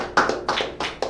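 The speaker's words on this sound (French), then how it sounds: "Amenez un gros applaudissement pour Jeline" Four sharp, evenly spaced hand claps from a small group at a children's event, close and clear with short pauses between them and no voices.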